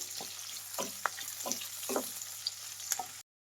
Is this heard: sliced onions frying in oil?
yes